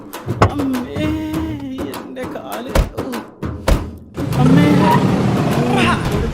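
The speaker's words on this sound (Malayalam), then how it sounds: "വണ്ടിയിട്." A car engine turning over and pulling away, with thumps of doors and engine revs mixed among people talking loudly nearby.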